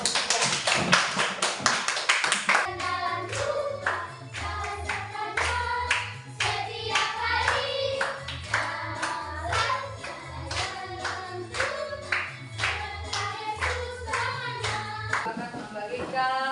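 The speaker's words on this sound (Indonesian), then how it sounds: "Semuanya aplaus dulu untuk kelompok 3." A group applauds a presenting team in an Indonesian classroom: sustained, fairly loud hand clapping from many people that fills the whole stretch, with dense overlapping claps and a brief swell near the start.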